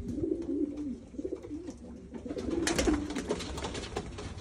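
Domestic pigeons coo steadily at feeding time, with grain mixed with a little oil. Several birds make repeated low, rolling coos close by, overlapping one another above a soft rustling background, with no talking.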